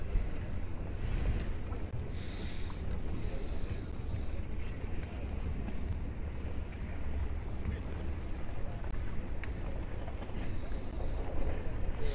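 A lifeboat's engine drones low and steady entering the harbour channel at Les Sables d'Olonne, beneath gusting wind and lapping water, faint and somewhat distant, with occasional knocks and creaks.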